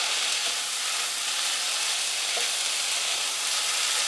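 Finely chopped red peppers frying with onions in a pan for chilli con carne, giving a steady, even sizzle with faint stirring scrapes, close and alone without talk.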